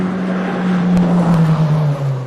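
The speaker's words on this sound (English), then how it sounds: "as we see the Zero car come past us" The zero car of the 2024 Otago Rally passes on the Curry Bush gravel stage of the New Zealand Rally Championship, a loud, close engine drone whose pitch sags slightly as it goes by.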